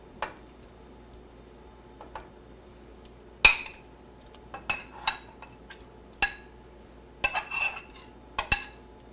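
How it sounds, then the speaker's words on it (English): A spoon clinks and scrapes against a pot as ingredients are stirred into a simmering dish, with a few sharp metallic taps spaced irregularly over a quiet background. "Just stir it in and let it sit."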